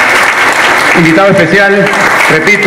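Applause for a guest at a poetry tribute event in a Venezuelan venue, steady crowd clapping throughout while someone speaks over it on a microphone.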